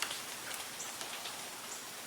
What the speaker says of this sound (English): It's been drizzling rain all day